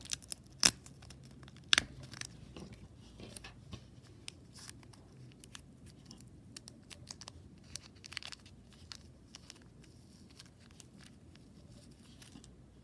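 Felt pieces torn from their pack, with a few sharp rips and crinkly plastic handling. The sounds are faint and close, scattered over a quiet room.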